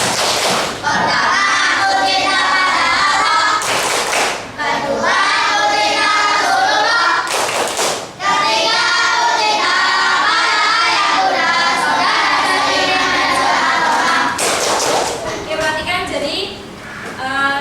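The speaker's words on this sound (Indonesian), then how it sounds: "kita akhiri pembelajaran hari ini dengan satu kali tepuk cinta" Schoolchildren in a classroom performing the tepuk cinta clapping chant: a group chants loudly in rhythm, broken by a few sharp, sudden bursts of clapping.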